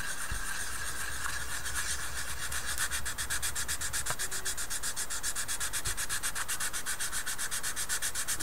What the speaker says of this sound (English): there's a sanding stick there